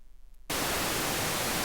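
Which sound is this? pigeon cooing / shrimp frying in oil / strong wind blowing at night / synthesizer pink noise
synthesizer pink noise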